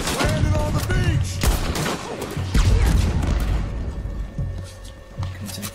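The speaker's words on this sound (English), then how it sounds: "Was that the cannon?" Cannon booms and rattling gunfire fill a beach battle in Red Dead Redemption 2, with repeated heavy blasts and bursts of shots under excited shouting.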